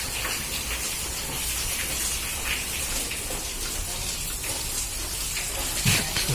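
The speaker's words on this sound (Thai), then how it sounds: "ฝนตกหนัก มากครับ" Heavy rain pours down in a dense, steady hiss of drops hitting surfaces, continuous throughout, with faint background sounds mixed in.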